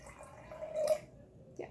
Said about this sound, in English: we're going to pour our water into our mason jar